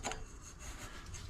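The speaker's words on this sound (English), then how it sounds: "Now I'm just using this piece of aluminum angle to lightly pack these down." A piece of aluminum angle lightly packs fiberglass insulation down during a car rebuild, heard as a brief, soft, close scraping rub.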